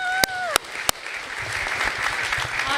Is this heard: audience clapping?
yes